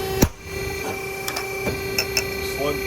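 A double hole pipe puncher punches a hole through a seamed tube, giving a sharp metallic clunk followed by several lighter clicks and taps over a steady background hum.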